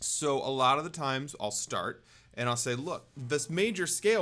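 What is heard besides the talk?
No distinct noise like a dog, phone or traffic.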